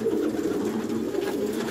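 Pigeons kept for sale coo steadily at close range, a soft continuous murmur of overlapping calls with no pauses throughout.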